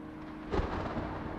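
An approaching thunderstorm sends a single deep thunder boom, fairly distant, that swells suddenly and then fades into a low lingering rumble.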